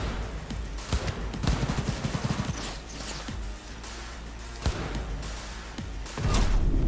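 Enemy gunfire in the video game Cyberpunk 2077, sharp repeated shots and bursts cracking out in uneven volleys, with heavier thuds mixed in and no speech over it.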